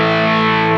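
Electric guitar played through a Moore Black Secret distortion pedal, a loud, sustained, heavily saturated chord ringing evenly for under a second.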